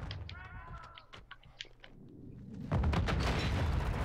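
A self-inflicted bomb blast in the shooter game Call of Duty Modern Warfare 2 erupts as a loud, sustained boom after quieter scattered shots and faint game sounds.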